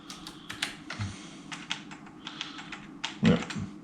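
Keys on the keyboard of a 1993 Apple Mac Performa 450 are pressed in an irregular run of close, dry clicks and taps. Some keys are stuck down. A slightly heavier thump comes near the end.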